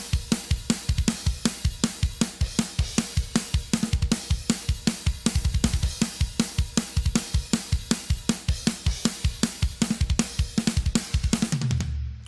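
A thrash metal drum groove drives a final chorus, with fast, relentless kick and snare hits pounding in a steady rhythm, loud and up close, with crashing cymbals throughout before ringing out at the end.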